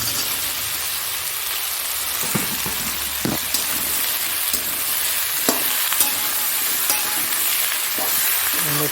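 Onions fry in oil, sizzling and crackling steadily, with a few sharp pops and occasional stirring clicks, close up and with no talking.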